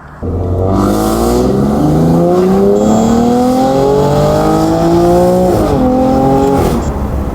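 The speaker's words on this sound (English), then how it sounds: "I think your car is officially louder than mine" A loud BMW M4 exhaust with aftermarket downpipes revs hard, climbing in pitch through a long raspy pull, dipping briefly, then rising again before cutting off.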